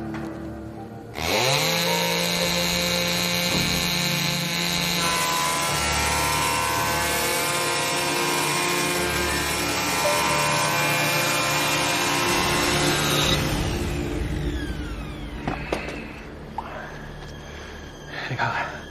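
A saw bites loudly into a tree trunk, a sustained rasping roar with a steady pitched whine that runs for about twelve seconds before cutting off, followed by quieter rustling and scraping.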